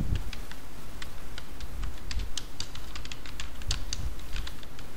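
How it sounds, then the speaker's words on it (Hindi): Someone types a heading in Microsoft Word on a computer keyboard, producing quick, evenly paced key clicks that run throughout against faint background noise. "उसके बाद हम यहाँ पर अपनी हेडिंग टाइप करेंगे।"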